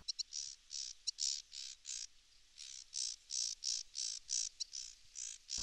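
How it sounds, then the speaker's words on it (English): A sedge warbler's repeated high, buzzy chattering phrases in a regular rhythm, about a dozen short bursts, clear against a quiet background. "the sedge warbler."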